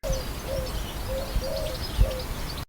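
Short hooting bird calls repeat at an even pace over a soft, rustling outdoor background.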